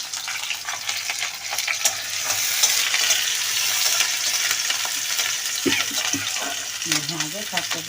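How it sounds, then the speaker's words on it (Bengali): Onions fry in home-pressed mustard oil in a busy evening kitchen, a continuous close sizzle with stirring scrapes, while voices talk faintly in the last few seconds. "পেঁয়াজটাকে একটু লাল লাল করে ভেজে নেবে"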